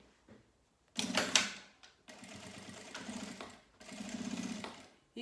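A sewing machine stitches through a milk-carton necessaire box in three bursts: a short sharp run, a pause, then two longer steady whirring passes, close and clear with no talk.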